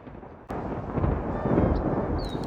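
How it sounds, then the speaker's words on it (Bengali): A cartoon thunderstorm effect: a sharp crack followed by a deep, sustained rumble of thunder and heavy storm noise that rolls steadily on at full loudness with no voices. "তারপর শুরু হলো প্রবল ঝড় বৃষ্টি।"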